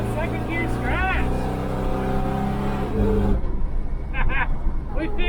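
A big block GMC truck with a freshly repaired transmission pulls in second gear, its engine droning loud and close; a voice speaks over it, and a shift partway through leaves a rougher, lower rumble.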